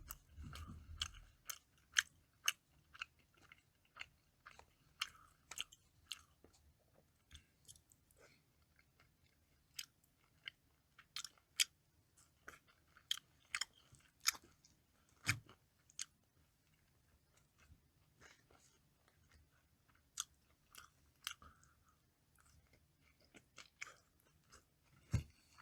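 Quiet close-up chewing and crunching of a home meal, with a steady run of small bites and mouth clicks alone, no talking.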